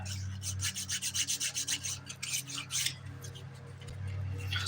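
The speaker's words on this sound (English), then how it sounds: "I like these skinny files a lot, especially for getting in my cuticle lines" A skinny nail file rasps rapidly back and forth across a fingernail in quick rhythmic strokes, then in slower scattered passes, close and quiet over a low background hum.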